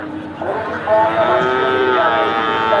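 Cattle low and moo repeatedly at a busy livestock market, several drawn-out calls overlapping against a steady crowd murmur, the animals close and loud.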